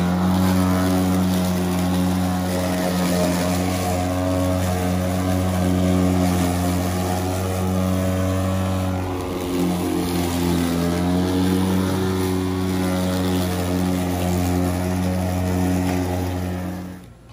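A battery-powered lawn mower runs on its high setting through wet centipede grass, giving a loud, steady droning whine that holds throughout and cuts off abruptly at the end.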